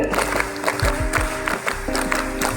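A school class of grade IX.5 students claps along in rhythmic bursts at the close of a literacy session, the claps loud and close with a crowd murmur beneath.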